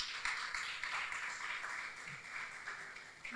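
Applause from a conference audience honouring a panel moderator at a women's rights and justice event, a steady broadband patter of many hands clapping at moderate distance, sustained without pause.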